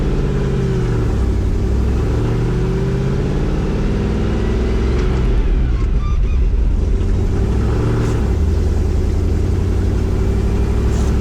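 A 1986 Chevrolet K-20 pickup truck rumbles steadily on a test drive, its engine droning loud and close from inside the cab, with a brief shift in pitch midway and no talking.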